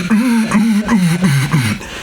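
A reed duck call blown backwards with a strained, honking tone, three or four drawn-out, wavering notes in a row, loud and close.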